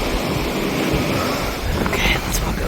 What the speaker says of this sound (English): let's walk over here where we can watch the little waves come in